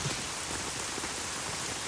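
Rain falling steadily in a movie scene, a dense, even hiss of drops on surfaces that stays constant and fairly close throughout, with no voices.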